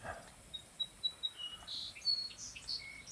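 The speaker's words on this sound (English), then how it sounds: "Birds are chirping" Birds chirp outdoors on a clear, cloudless morning: a series of short, high, scattered tweets at moderate distance over a soft steady background, with no voices.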